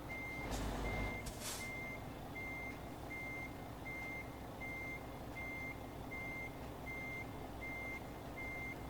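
Truck reversing beeps in Euro Truck Simulator 2: a steady, evenly spaced electronic beeping that repeats throughout over a low engine rumble, with a brief hiss near the start and no talking.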